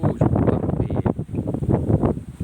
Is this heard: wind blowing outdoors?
yes